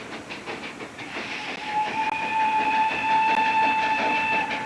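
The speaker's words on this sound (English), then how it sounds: "The first train from Richmond to Huntington." A steam train arrives at Huntington, West Virginia, on the first run from Richmond. Its loud, steady rolling clatter is joined by a long, sustained whistle blast, with no voices.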